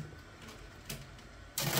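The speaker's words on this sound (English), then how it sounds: "you're going to hear that extruder make a noise" Bambu Lab P1S/P1P 3D printer extruder unloading filament: a few soft mechanical ticks, then a louder, steady buzzing grind that starts abruptly near the end.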